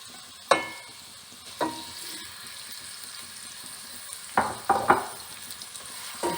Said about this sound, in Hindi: प्याज ऑलमोस्ट फ्राई होने वाली है।